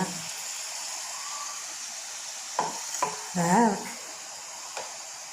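Ground paste of coconut pieces, shallots and fennel drops into hot oil for a mushroom kurma, bursting into a loud sizzle with a few close stirring scrapes over a steady background frying hiss.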